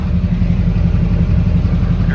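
A 2007 Chevrolet 2500 Duramax LBZ diesel truck idles through a full MBRP exhaust with a muffler, holding a low, even, fairly quiet rumble throughout, close by and with no talking.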